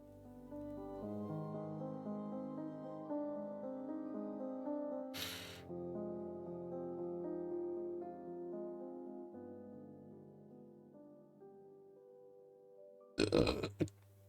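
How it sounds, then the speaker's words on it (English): A short, loud burp bursts out near the end, over steady background music. "Tasty, tasty burp."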